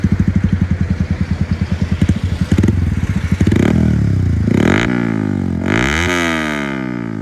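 A sport motorcycle, an Apache 310 or R15, runs close and loud. It starts with a rapid pulsing idle and then climbs through rising revs in sweeping throttle blips, with no talk.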